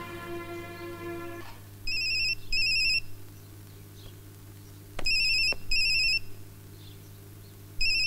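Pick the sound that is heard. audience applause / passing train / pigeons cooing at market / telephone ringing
telephone ringing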